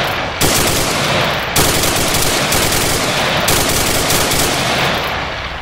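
Sustained automatic gunfire in the Arma 3 military shooter game, loud close bursts of rapid shots running almost continuously with a couple of short pauses.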